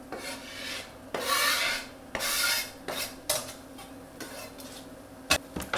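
A spoon scrapes and rubs through finely chopped mushrooms in a pan as they are stirred into other mushrooms, in uneven close strokes with short gaps and a few sharp knocks.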